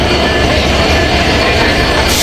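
A train pulls into Kamalapur railway station, a loud, dense rumble of rolling wagons and rail noise filling the scene, with no voices.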